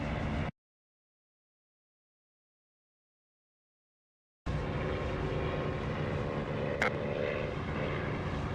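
A Bf 109 propeller fighter drones in the DCS combat flight sim, a steady engine hum that cuts out abruptly to silence for several seconds, then resumes at the same level with a short tonal blip.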